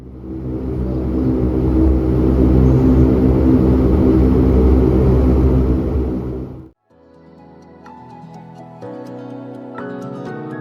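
An Alaska Airlines Q400 turboprop at the gate roars loudly with a steady engine drone, then abruptly cuts off to quieter cabin ambience with faint chimes and tones.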